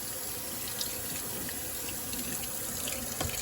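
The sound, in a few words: rinsing beans under running tap water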